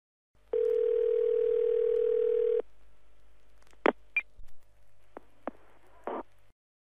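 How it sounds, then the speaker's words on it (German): A steady telephone line tone of an automated phone information service holds for about two seconds, followed by a few short clicks and electronic blips, with no talking. "Sie hören eine automatische Telefonauskunft."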